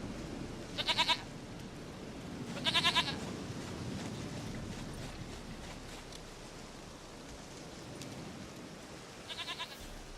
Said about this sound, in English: sweetest goat.